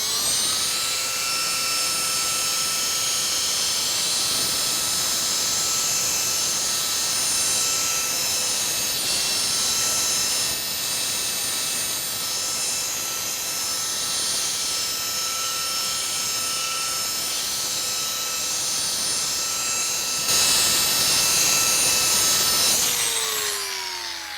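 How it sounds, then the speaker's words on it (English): A polishing machine buffs a car headlight at speed setting 6, a steady, loud high-pitched whine with a constant tonal hum that holds evenly before winding down at the end. "Now let's go to speed setting 6 to buff it out."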